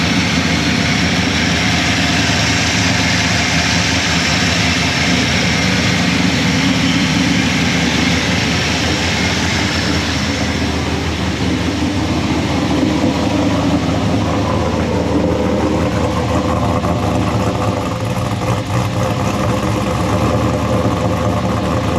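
An LS1 V8 fitted with a Tuff street cam fires up and settles into a loud, lumpy idle, a heavy steady engine rumble filling the whole stretch with no talk over it.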